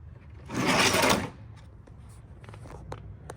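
A power tool spins out a 5/16 mud flap bolt behind the removed rear wheel of a C8 Corvette in one loud, close, half-second whir. Faint clicks and handling noises follow.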